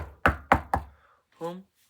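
Three sharp, evenly spaced knocks on the door of a home, close and clear, followed by a brief voiced sound after a short pause.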